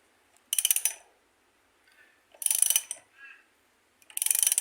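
A Ford AU Falcon harmonic balancer is drawn off with an improvised three-bolt puller, giving three short bursts of ratcheting, clicking mechanical noise separated by quiet gaps, close and fairly clear.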